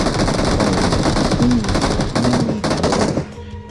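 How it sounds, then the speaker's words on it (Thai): Sustained rapid automatic gunfire in the PUBG Mobile video game, loud and continuous for several seconds before tapering off abruptly, with no voices over it. "มันไปยิงกันตรงไหนเนี่ย"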